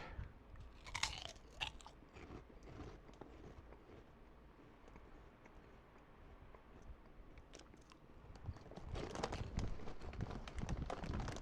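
Close, crisp crunching and chewing of a Las Ricas churros chocolate snack, with bursts of loud bites near the start and again toward the end and steadier munching between, no talk.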